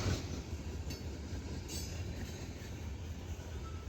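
A long Norfolk Southern manifest freight train rolls steadily past close by, a continuous rumble of wheels on rails with faint squeals and occasional clatter, and no voices.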